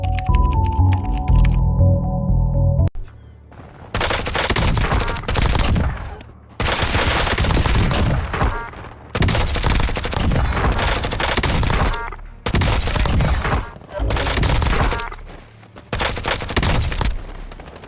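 Rapid bursts of automatic gunfire from a Grau 5.56 rifle in Black Ops 6, loud and close, coming in repeated sustained volleys separated by short gaps.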